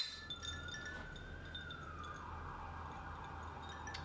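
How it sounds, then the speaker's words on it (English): A faint police siren wails in the distance outside, its tone slowly rising and holding, heard through a quiet room. "It's constant sirens and things."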